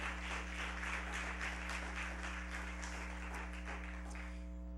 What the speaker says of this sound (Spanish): ¿Cuánto dan un aplauso por la persona de Cristo?